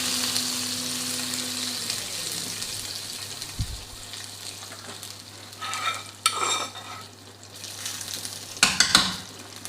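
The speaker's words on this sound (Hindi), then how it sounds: "अब हमने इसमें ये तिल जो हैं ये ऐड कर देने हैं" Sesame seeds go into chicken frying in a wok for til wali murghi, with a steady sizzle, soft stirring scrapes and a couple of louder clattering stirs near the end.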